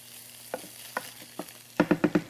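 Garlic and onion powder are stirred into a pan while making a buffalo chicken sandwich, with soft frying under spaced spoon scrapes and then four quick, louder taps close together.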